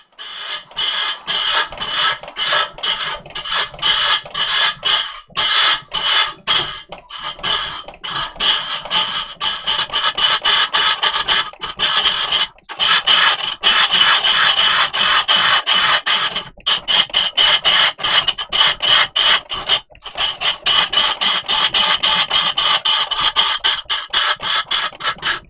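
Gouge cutting a large walnut log spinning on a wood lathe, a loud continuous rasping scrape broken by brief gaps as the tool lifts and re-engages.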